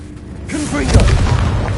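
Confringo spell blast in Hogwarts Legacy, a deep booming explosion that swells after a short voiced cast and rumbles on to the end, close and fairly loud, with speech overlapping the start.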